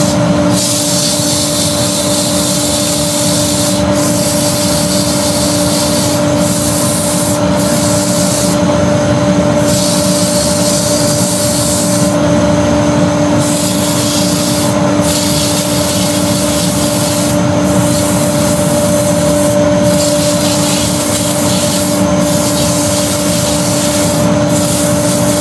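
Sandpaper held against a wooden tealight holder spinning on a wood lathe, a continuous loud rubbing hiss over the steady hum of the lathe motor, close up and uninterrupted, with no talking.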